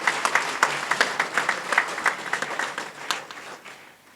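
Gathering at a building blessing and inauguration in Vanastalipuram, Hyderabad, applauding Mathew and Jayaraju, a modest group clapping in loose rhythmic bursts that thin out and fade over about four seconds, with no talking.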